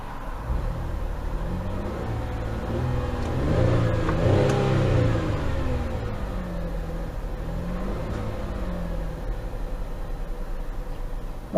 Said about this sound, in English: let's rev this engine so you guys can hear it